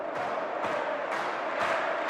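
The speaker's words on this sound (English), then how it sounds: "I'm basically filtering this stadium sound to make it sound like a riser." A stadium crowd sample, filtered into a riser for a K-pop track, makes a steady hissing roar with rhythmic swells about every half second, its top end rising and falling as the filter moves.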